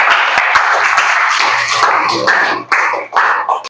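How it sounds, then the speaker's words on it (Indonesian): Brief burst of audience applause for a speaker at a lecture or seminar, scattered clapping rising and then breaking off into uneven patches within a few seconds. "kasih tepuk tangan dulu untuk Bapak"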